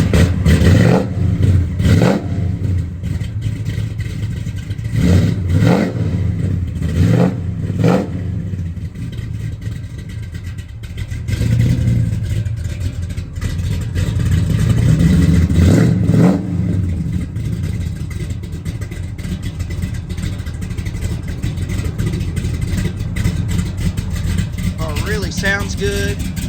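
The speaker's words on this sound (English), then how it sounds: "we're gonna start it up" A 1969 Chevrolet Chevelle SS 396 V8 cranks over and fires, then revs in several loud blips before settling toward a steady idle, recorded close by with some background talk.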